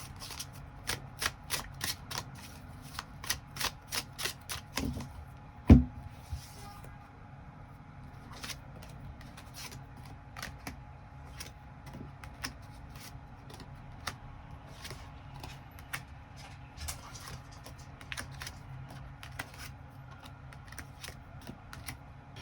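Tarot cards are shuffled in rapid riffling bursts and then drawn one by one, giving crisp close clicks and snaps with a sharp tap partway through, followed by sparser card flicks.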